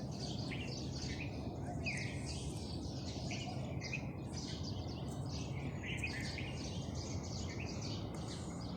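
Many birds chirp and call continuously outdoors during a walk, their bright overlapping tweets set against a steady, dense background hiss.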